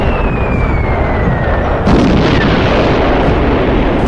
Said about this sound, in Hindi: ऊपर से ज़ॉम्बीज़ पे बम गिराने लगते हैं।